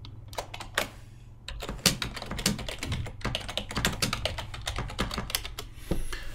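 Rapid typing on a computer keyboard, entering text into a chat window during an online Arabic grammar lesson, with steady close clicking in irregular bursts and a low hum underneath.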